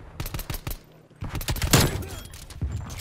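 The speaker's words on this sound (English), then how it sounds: "I'm using a freaking nail gun, dude." Nail gun fire in the video game Call of Duty: Black Ops Cold War, a series of sharp, quick shots in short bursts with a brief pause near the middle and a louder blast after it, a voice talking under the action.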